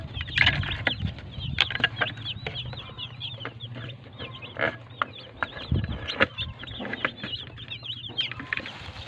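Chickens clucking in a poultry pen on a farm, a busy flock producing continuous overlapping clucks and short calls with some low rustling, fairly close throughout.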